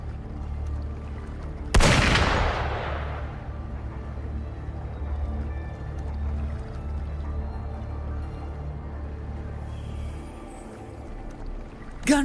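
In the video game Wuthering Waves, one sharp, loud gunshot cracks out early and fades, leaving a low ambient rumble with faint background noise.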